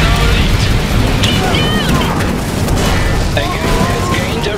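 Cannon fire and explosions in the real-time strategy video game Iron Harvest: dense, continuous battle rumble with booms and crashes, under game voice lines.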